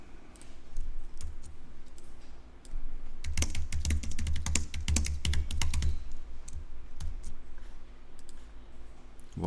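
Keys clatter on a Mac computer keyboard in bursts of fast, close typing, sparse taps at first, then a dense run of clicks in the middle before the pace thins out again.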